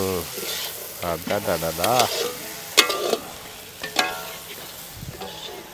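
Crab frying in a hot pan at an outdoor village kitchen in Peravurani, a steady sizzle with stirring scrapes underneath while someone talks excitedly over it.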